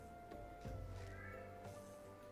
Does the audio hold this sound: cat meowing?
yes